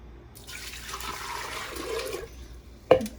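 Water is poured into a clay pot for cooking dal and rice, a soft splashing stream lasting about two seconds followed by a brief knock, quiet and with no speech.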